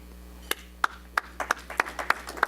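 At a Rotary club meeting, sparse individual claps ring out one by one, about ten sharp hand slaps spaced unevenly over a steady low room hum.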